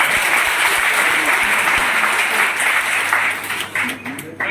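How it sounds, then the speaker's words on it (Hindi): Loud audience applause at a district-level youth festival run by Nehru Yuva Kendra in Datia, a thick sustained roar of clapping from a large crowd that begins to thin near the end, with a faint low hum underneath. "कपिल सेन सर के लिए जोरदार तालियां हो"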